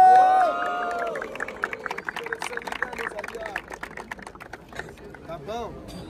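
A rap battle crowd roars for Mineiro, the noise starting loud, then settling into a dense, steady hubbub of shouting and clapping that fills the space for several seconds.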